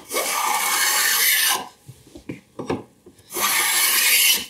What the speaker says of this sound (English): you want to do your planing action with as few steps as possible